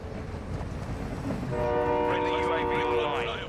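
A video game train rumbles past with its horn sounding a loud, sustained multi-tone blast over the rolling rail noise in the last half, standing out clearly after a quieter rumble.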